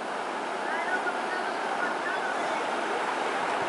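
Floodwater rushes steadily through a street in Murcia after a DANA storm, a continuous broad hiss and roar of flowing water, fairly close and unbroken throughout.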